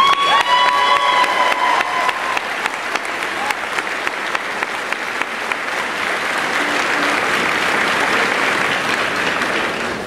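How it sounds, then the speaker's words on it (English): At a promotion ceremony, an audience applauds and cheers a man in uniform. Loud, sustained clapping is mixed with whoops and crowd noise, and a brief electronic tone sounds at the start. "I want to give him a round of applause"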